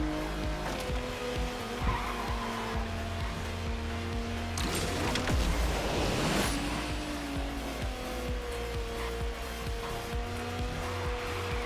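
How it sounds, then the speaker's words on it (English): A car drifting and boosting in the Asphalt Legends Unite racing game: a steady loud engine drone with long tire squeal and skidding, plus a brief rushing boost burst midway. "I'm just drifting and boosting along"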